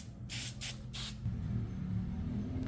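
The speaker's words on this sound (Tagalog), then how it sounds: "Spray lang natin muna dun sa loob hanggang makover niya yung foam." Mars Helmet Cleaner sprayed inside a helmet in three short hissing bursts, the second briefer than the others, followed by a low rumbling background and a faint tap.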